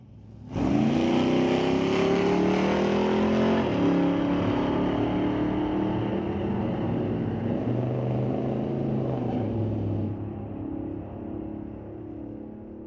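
An 83 Cutlass and a Mustang launch side by side at a Mission Raceway Park drag race: loud engines roar up and rise in pitch through the gears, hold steadily, then fade slightly as the cars pull away.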